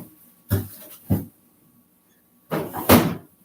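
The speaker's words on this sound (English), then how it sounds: "put it back in the vegetables drawer" A refrigerator vegetable drawer slides shut in a home kitchen, heard as a few short, close knocks and thuds separated by quiet pauses.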